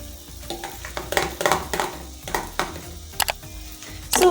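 Eggs for scrambling hit a hot pan and start frying, giving a steady sizzle broken by several loud scraping and clattering strokes. The pan sounds close, and the noise swells sharply at the very end.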